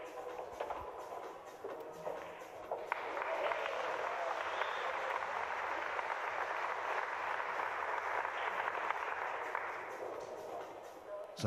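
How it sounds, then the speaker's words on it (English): Crowd cheering and applause carry over from a neighbouring table at a European pool championship, a broad, sustained roar that swells after a few seconds and holds steady, heard at some distance. "Sounded like another Rafael Vahl cheer from table 14."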